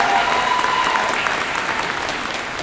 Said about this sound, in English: as you can tell by the applause